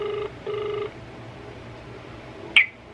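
Phone tones for a prank call: two long steady multi-tone ringback bursts, then a quiet hiss and a short sharp electronic blip near the end, all fairly faint with no talking.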